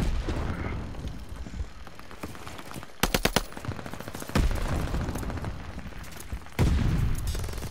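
Gunfire in a shooter video game: rapid bursts of automatic fire crackle in sharp clusters over a noisy battle background, with a loud volley near the middle and heavier blasts toward the end.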